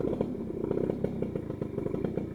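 A Suzuki Sprinter motorcycle engine runs steadily after a kick start, a close, rough mid-pitched putter with a rapid rhythmic clatter throughout and no talk.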